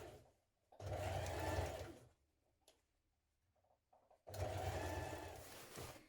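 A sewing machine stitches children's dungarees in two separate runs of rapid, even motor-driven stitching, each lasting over a second, with near-silence and faint handling clicks between them.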